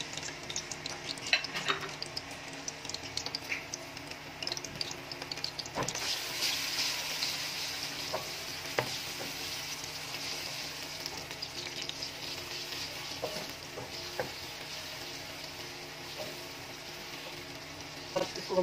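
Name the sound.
ginger garlic paste frying in hot oil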